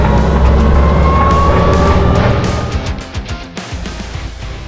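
An original WWII Wehrmacht Kübelwagen Type 82 accelerating along an old railway line, its engine roaring loudly and continuously up close, then easing into an uneven, bumpier rumble toward the end.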